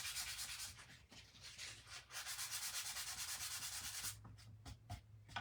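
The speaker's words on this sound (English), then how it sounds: "We sand those off." Sandpaper rubbing stencil paint off textured rustic wood, a series of rhythmic back-and-forth scratchy strokes, close and fairly quiet, with a few short separate rubs near the end.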